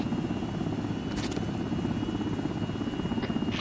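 A Mi-8 helicopter near hangars landing in a video game, a steady, close rotor thump and engine whine that holds constant with no pauses.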